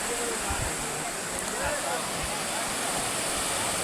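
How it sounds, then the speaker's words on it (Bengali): Fast, dangerous river current rushing continuously nearby, a loud broadband roar of water with people talking over it. "জলের এই স্পিডটা ডেঞ্জারাস"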